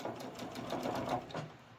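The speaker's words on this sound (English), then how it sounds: "You're just going to come down and do a quarter inch seam" Sewing machine stitching a quarter inch quilt seam, a steady fast needle rattle running continuously, close and even, with a slight slowdown at the end.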